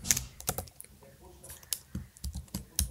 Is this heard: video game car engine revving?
no